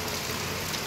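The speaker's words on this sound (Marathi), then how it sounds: "छान पाऊस मस्त धुवाधार बॅटिंग." Heavy monsoon downpour in the Konkan, a dense, steady roar of rain pouring down without a break, close and continuous, with no voices.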